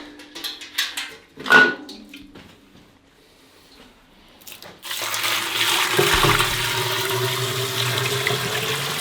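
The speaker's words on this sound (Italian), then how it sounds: "adesso laviamo il burro, sono andato a prendere l'acqua alla sorgente" Spring water gushes from a container into a vessel to wash freshly made butter at a remote mountain alpine hut, a loud sustained pour that starts midway after a few scattered knocks and splashes.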